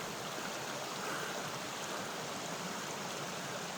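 Small creek in Santaquin Canyon near the White Pine Trail, giving a soft, steady babble and trickle of running water, fairly faint and unbroken throughout.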